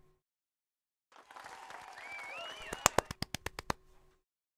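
A small crowd claps in a game scene, a soft swell of scattered applause that ends with several distinct, evenly spaced loud claps, one voice-like tone faintly threaded through.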